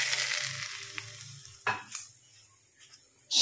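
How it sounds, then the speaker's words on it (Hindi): Hot olive oil poured into chicken momo filling, a brief crackling sizzle that fades into quiet, broken by a couple of soft knocks and a louder burst of hiss at the end. "मैं इसमें डाल रही हूँ गरम किया हुआ ऑलिव ऑयल 1 से 2 चम्मच"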